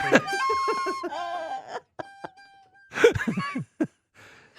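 A rubber chicken toy gives loud, harmonic squawks in two bursts with short breaks between them, and fainter squeaks follow.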